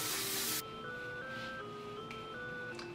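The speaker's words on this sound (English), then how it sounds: "Go ahead and take your hairspray, flip your head upside down," A half-second hiss of hairspray misted onto hair in an 80s-style hair-styling session, followed by a steady, faint run of simple electronic melody tones.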